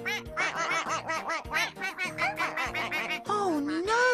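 Cartoon ducklings quack in quick, bright bursts, a steady stream of high squeaky calls ending in a longer wavering note, loud and close with no talk over them.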